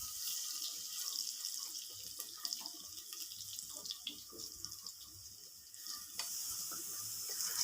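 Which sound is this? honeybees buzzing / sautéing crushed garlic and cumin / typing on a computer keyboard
sautéing crushed garlic and cumin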